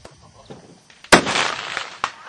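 A handgun fires a single sharp shot at a 500 m half-size silhouette target outdoors, a loud crack followed by a sustained rumble, with a few fainter clicks and pops before and after.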